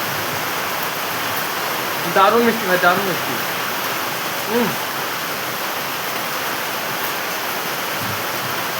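Steady rain falls as a constant broadband hiss during mango picking on a rainy day, with someone talking briefly over it.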